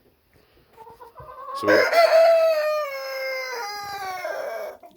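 Chickens on a rainy day at a backyard coop give a loud, drawn-out crowing call with clucking around it, close by, after a few words from a man at the start.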